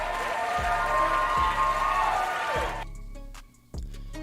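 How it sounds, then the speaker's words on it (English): A live audience applauds a moderator at an EDC show, clapping over tonal background music, then the sound drops off abruptly about three seconds in. "Round of applause for Ian one more time."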